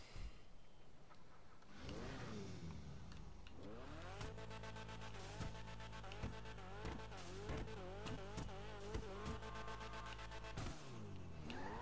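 An Annis ZR350 with a high-pitched rotary engine in GTA Online revs again and again in sharp rising and falling bursts, loud and close, from a short idle into a quick series of throttle blips.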